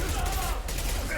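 Sustained gunfire in the video game Mass Effect 2, a dense, continuous barrage of shots with a voice talking over the fighting.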